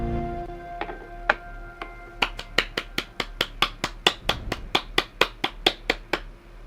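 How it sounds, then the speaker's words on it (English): Sparse claps start slowly, then settle into a steady run of about twenty crisp, evenly spaced hand claps, close and distinct, with no crowd wash behind them. "Round of applause for Zach."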